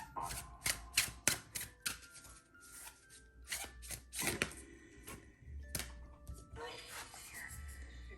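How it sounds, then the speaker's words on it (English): Tarot cards are shuffled in quick riffling bursts, a crisp flutter of paper snapping together, repeated several times with short pauses between. "these cards make a weird noise when you shuffle them"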